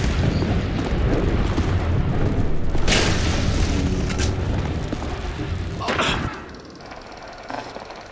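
Gunfire and explosions boom around a ship during a battle in the video game The Bureau XCOM, with dense, loud, continuous blasts and bursts that ease off near the end.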